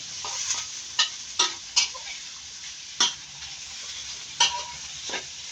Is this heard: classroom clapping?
no